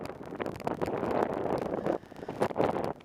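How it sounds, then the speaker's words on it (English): Strong wind buffeting the microphone in loud rushing gusts, with brief lulls between bursts. "that's windy as friggin' hell out"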